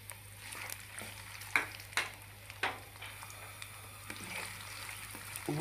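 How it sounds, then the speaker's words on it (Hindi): Onions sizzle in hot oil with cumin seeds in a pan while mutton paye is being cooked, giving a steady soft frying hiss broken by several louder stirring clatters near the mic. "मैं इस प्याज को ब्राउन कर लूँगा"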